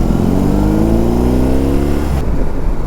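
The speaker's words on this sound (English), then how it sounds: "So this is like my very first time ever riding this motorcycle" A motorcycle engine revs while the bike is being ridden close by. The pitch climbs steadily for about two seconds, then drops as the throttle eases, and wind noise runs underneath throughout.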